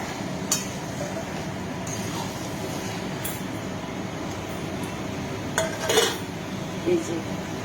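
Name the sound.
adding homemade mango oil pickle to meat in a pot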